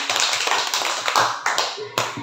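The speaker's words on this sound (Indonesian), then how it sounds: "Tepuk tangan dulu biar nggak sepi." A classroom of students claps hands together in a short, uneven burst, the claps close and lively, fading and returning in a few scattered rounds.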